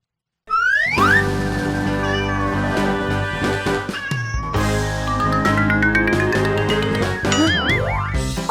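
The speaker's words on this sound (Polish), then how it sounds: "Kot!" A cartoonish cat meows and yowls loudly amid a busy music score with boinging effects and sliding tones.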